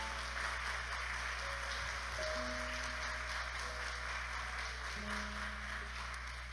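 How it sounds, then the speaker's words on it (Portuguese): A church congregation applauds a longtime member, producing a soft, continuous patter of many hands set back in a reverberant hall over a steady low hum, with faint tones drifting through. "Vamos aplaudi-lo bem gostosamente"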